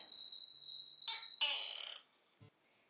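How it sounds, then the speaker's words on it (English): Insects chirp in a loud, continuous high trill, interrupted by a couple of brief rustling bursts, then fading to near silence with one faint click at the end. "Insects."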